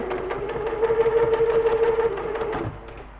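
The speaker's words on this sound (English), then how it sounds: "we're going to stitch across the top, a little reverse at the beginning" A sewing machine runs steadily for about two and a half seconds, stitching across the top of a tote bag with a brief reverse at the start, its motor hum and rapid needle clatter close and fairly loud before stopping.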